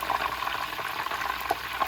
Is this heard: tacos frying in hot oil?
yes